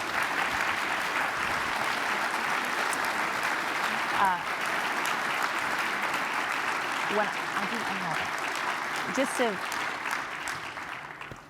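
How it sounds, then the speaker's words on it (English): Sustained audience applause for a campus panel discussion on democracy and liberal arts, a full, steady roar of clapping with brief voices and exclamations poking through toward the end. "Give them all a round of applause."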